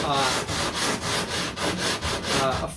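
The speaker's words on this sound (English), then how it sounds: "the foil tape, it sands off really easy too" Sandpaper works over foil tape and body filler on a 1969 Corvette C3 body, producing close, steady back-and-forth rasping strokes in an even rhythm, roughly two or three per second.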